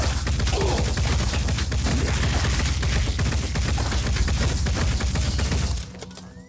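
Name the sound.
gunfire in the video game Phoenix Point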